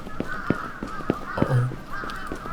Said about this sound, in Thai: มันมีอีกาบินวนด้วยนะครับ